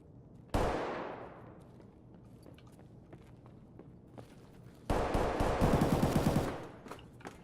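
Gunfire in the video game Escape From Tarkov: a sudden loud shot rings out and decays, then after a quiet stretch a rapid burst of automatic fire rattles for about two seconds before fading, with no talk.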